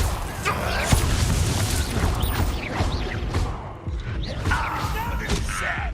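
Spell-casting bursts in Hogwarts Legacy, Expelliarmus disarming magic amid game combat: repeated thuds, booms and crashes over a dense, loud battle soundscape, with a voice talking through it.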